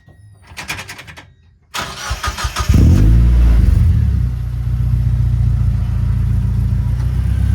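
A car engine cranks and catches, then settles into a loud, steady idle that continues close by, with a few faint clicks and noises beforehand during work on the car's leak.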